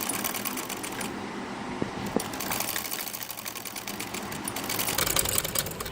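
A sewing machine stitches a seam on a kurta with a tariz panel, whirring steadily and close. A quieter stretch with a couple of handling clicks falls in the middle before the motor runs on.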